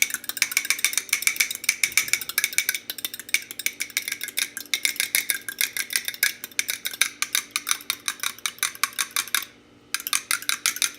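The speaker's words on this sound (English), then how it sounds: "Just going to whisk these guys." Eggs seasoned with salt, pepper and paprika being whisked briskly in a bowl, producing fast, even metallic tapping and clinking that runs steadily up close with a brief pause near the end.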